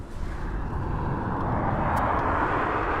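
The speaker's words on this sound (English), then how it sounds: "we've got another aircraft on the approach right now" An airliner on approach at East Midlands Airport roars as a steady, broad jet rumble that builds slightly and holds at moderate distance, with no talking.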